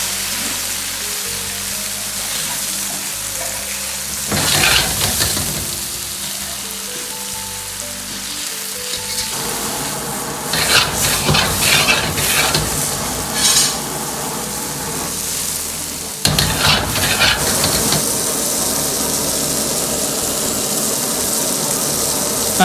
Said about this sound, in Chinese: 晃动锅底，让其受热均匀，一面煎至大概2分钟左右，然后再翻面煎至另一面